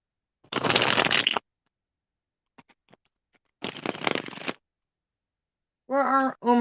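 Tarot cards shuffled by hand in two separate bursts of riffling clatter with a quiet gap between, followed by a short stretch of talking at the end.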